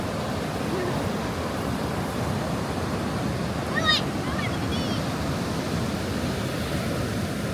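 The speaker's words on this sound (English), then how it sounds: "The waves are crashing out here." Ocean waves crash and wash steadily onto a beach, a continuous broadband roar of surf at moderate level with a brief high-pitched voice or bird-like squeal near the middle.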